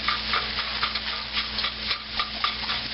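Egg being stirred and fried for fried rice in a non-stick wok, a soft steady sizzle under repeated scraping and tapping of a utensil against the pan, close and continuous.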